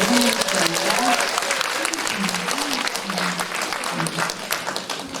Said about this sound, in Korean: 오늘 너무 감사드리니까 다시 한번 박수로 여러분 환영드립니다.